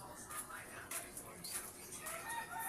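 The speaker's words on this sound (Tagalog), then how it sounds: "Ba't nag-aalaga ka ng manok kay Daryl?" Chickens cluck in short, scattered calls, fairly faint and mixed with background noise, while people talk nearby.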